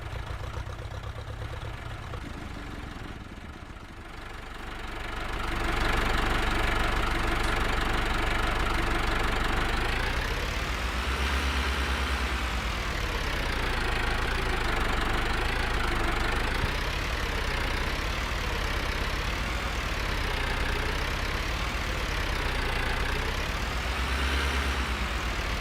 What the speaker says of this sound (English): See what I mean about that tractor being so loud? Like, you can hear it from all the way over here